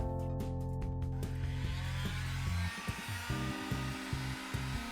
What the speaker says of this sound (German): Ich benutze jetzt hier eine Heißluftpistole, aber ein gewöhnlicher Haartrockner reicht auch aus, um das Gerät ausreichend zu erwärmen